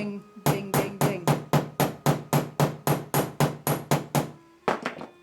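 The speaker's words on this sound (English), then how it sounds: "I'm just going to be hammering this quarter. Ding, ding, ding, ding, ding, ding." A hammer strikes silver wire on a steel surface plate in a fast, even rhythm of about fourteen loud ringing metallic blows, followed by a pause and a couple of quicker final taps.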